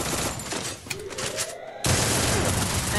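Gunfire in the Free Fire battle royale game, a burst of rapid shots followed by a loud, dense volley that fills the end of the clip, close and heavy.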